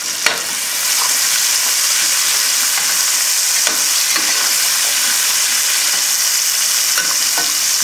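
Seasoned chicken paillard filling frying hard over a raised flame, a loud constant sizzle with a few scraping clicks as it is stirred, no voices.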